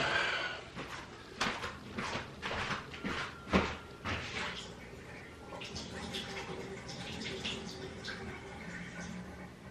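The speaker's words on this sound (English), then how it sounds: "I'm going to tip it down the sink." Monster Aussie Lemonade energy drink tipped from its can into a sink, with a few knocks and clunks and then a soft, steady splashing stream.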